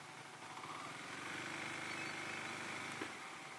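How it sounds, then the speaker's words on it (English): A motorcycle engine idles steadily at a roadside stop on a ride across Malaysian Borneo. The low rumble runs continuously and evenly throughout, with faint ambient noise and no talk. "Pull your motorcycle right into the coffee shop."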